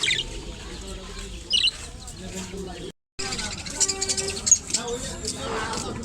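At a busy outdoor bird market, caged cockatiels and other birds chirp and cluck in scattered bursts while people talk nearby, with a brief dropout midway.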